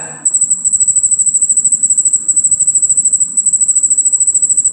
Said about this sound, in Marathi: हा रातकिडा जो रात्रीचा आवाज करतो. बघा कशा प्रकारे तो आवाज करतो आहे.